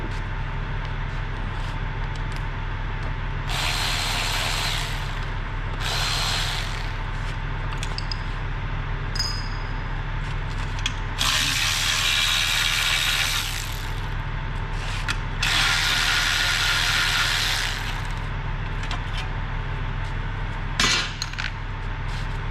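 A ratchet socket wrench clicks in quick bursts while removing engine tin work, several rapid ratcheting runs separated by pauses over a steady low mechanical hum.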